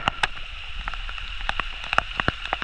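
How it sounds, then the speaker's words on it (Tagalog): Rain pattering heavily and continuously on a nearby surface, with sharp drips and splashes scattered through the steady wash. "Lakas ng ulan"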